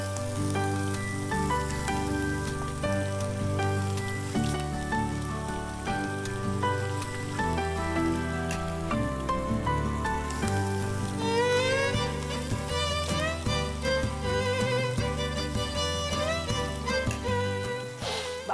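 Food sizzles steadily in hot oil in a home kitchen, a constant crackling hiss running under background music throughout.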